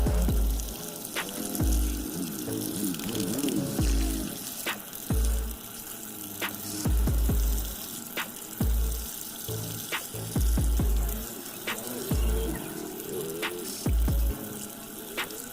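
Water runs steadily over a purple gradient-dyed shirt being rinsed in a sink, a continuous rushing stream broken by regular low thumps and soft splashes as the fabric is worked.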